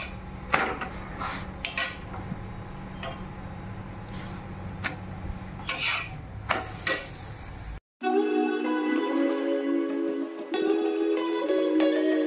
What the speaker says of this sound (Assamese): এতিয়া উলট পালট কৰি ভাজি লম।